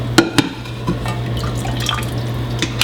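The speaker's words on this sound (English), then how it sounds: "All I'm going to do is strain all of the liquid" Pot roast cooking liquid from a pressure cooker, with parsley and tomatoes boiled down, strained through a strainer, giving a moderate steady trickle with a few louder drips and splashes, close by and without talk.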